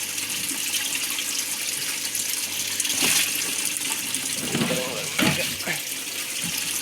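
Water leaking steadily trickles and splashes throughout, with a few brief louder gushes and clatters near the middle.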